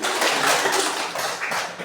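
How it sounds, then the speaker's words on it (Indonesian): A classroom of students clapping together, a dense continuous patter of many hands heard close and fairly loud, fading slightly near the end. "Oke, kita berikan tepuk tangan."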